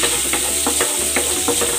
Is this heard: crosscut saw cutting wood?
no